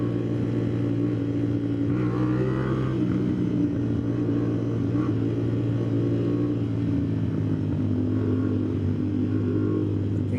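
A 450 SR motorcycle being ridden on the NLEX expressway, its engine giving a steady loud drone with a strong low harmonic hum that shifts only slightly in pitch throughout, with no voices.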